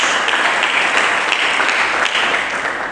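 A church congregation claps for Jesus Christ during a sermon, producing a continuous, even roar of applause that holds loud throughout and eases slightly at the end.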